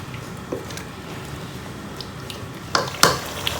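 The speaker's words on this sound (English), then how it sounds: "So let me leave it to get fried." Chicken frying in a pot for Nigerian stew; a steady low sizzle carries on, broken by a couple of sharp utensil clinks against the pot toward the end.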